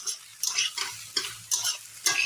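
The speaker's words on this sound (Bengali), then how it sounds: "ওইদিকে আমার ভাজা হচ্ছে" Food sizzles in a pan in repeated bursts, as if being stirred or tossed, with soft clinks in between.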